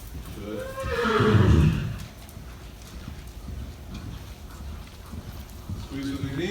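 During a riding lesson at an eventing camp a horse gives a loud close whinny, followed by the steady clip-clop of hooves walking on the ground. Instructors speak over the scene.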